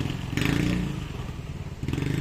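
A nearby motorcycle engine idles and revs briefly at a low-budget used-car garage, giving a rough low rumble with a short louder surge.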